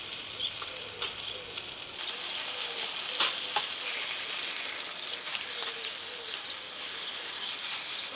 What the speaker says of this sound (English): the sausage is going to carry on cooking